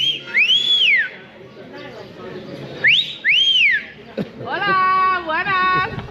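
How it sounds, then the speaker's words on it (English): Loud, clear whistling: two rising-and-falling swoops, then a wavering melodic trill, with some background chatter between. "I'm going to whistle."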